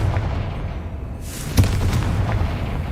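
A Confringo explosive spell from Hogwarts Legacy bursts with a sharp crack and booming blast amid steady low game rumble, followed by a brighter crackling tail.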